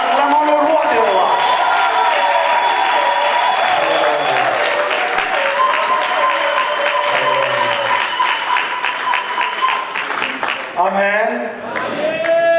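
A church congregation claps steadily and calls out in acclamation, a sustained wash of applause and raised voices filling the room, with singing or speech rising over it near the end.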